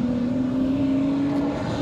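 An E46 BMW M3 engine holds a steady, sustained drone on a track lap, with a constant tone and no voices.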